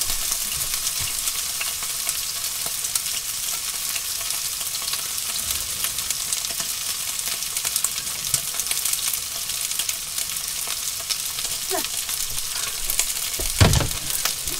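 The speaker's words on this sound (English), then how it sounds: "Getting carried away flipping these sausages." Sausages fry in a pan with a steady, close sizzle that runs throughout, joined by occasional scraping and knocking as they are turned.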